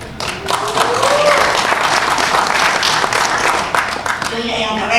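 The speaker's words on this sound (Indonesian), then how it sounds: "Tepuk tangannya." A large crowd applauds steadily at a political speech in Indonesia. The clapping is loud and sustained and continues for several seconds, with some voices mixed into the noise.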